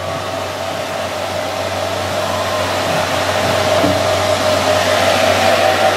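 An Everlast PowerCool W300 welder cooler's fan runs alongside an Everlast 255 EXT welder, a steady, moderately loud airy whir with a constant hum that grows slightly louder, no talking.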